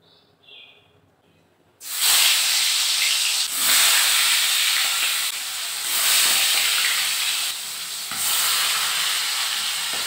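Boal fish frying in hot oil in a kadai over a gas flame: after a quiet start, a loud, steady sizzling hiss bursts in and continues with slight surges throughout.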